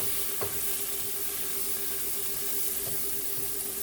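Garlic and onions fry in a pot with a steady, broadband sizzle that stays even throughout, joined by a few faint scraping stirs, close up with no talking.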